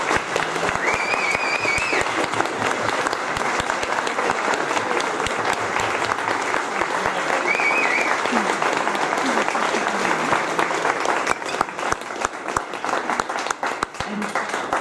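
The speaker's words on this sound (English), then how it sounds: "I would like to have a standing ovation, round of applause" Standing ovation at a service dog graduation for traditional and military clients, sustained dense applause from a large crowd filling the room for about fifteen seconds, with a few faint voices and whistles mixed in before it begins to thin.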